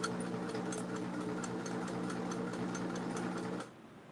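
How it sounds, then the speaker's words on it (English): A sewing machine stitches fabric at a steady fast hum with a regular mechanical rhythm, running continuously for about three and a half seconds before stopping, fairly quiet and with no talk. "I'm going to sew this one together."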